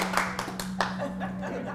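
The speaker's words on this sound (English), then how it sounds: "So now we have to clap again to make this go off." A small audience at a worship service claps in a quick, loose burst of several sharp hand claps, fairly close, followed by softer scattered clapping under a faint background hum.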